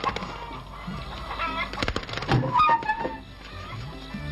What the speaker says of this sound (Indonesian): Ayam lagi.